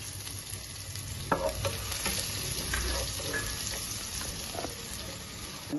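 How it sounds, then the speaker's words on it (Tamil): Chopped garlic and cumin seeds fry in ghee with a steady bubbling crackle, close and even, punctuated by a few sharp spoon taps against the pan. "நல்லா பொரிஞ்சு வருது பார்த்தீங்களா? நீ அடுத்த ஸ்டெப்பு நல்லா பொரியுது."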